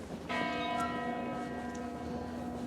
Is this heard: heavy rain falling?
no